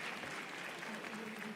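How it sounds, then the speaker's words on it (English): Audience at a university business school celebration giving a round of applause, a continuous, dense clapping wash heard at a distance and fairly faint. "I think we can give ourselves a round of applause for that."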